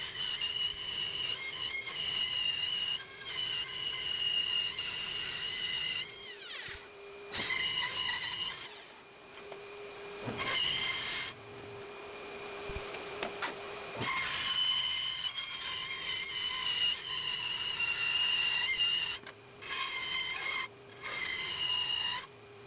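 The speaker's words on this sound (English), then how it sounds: "Now with my good old Weber sander" A Weber power sander works a wooden sword shaped from a 2x4, giving a steady, loud abrasive whir with a grinding rasp that runs in long bursts and is broken by several brief pauses where the tool lifts off or stops.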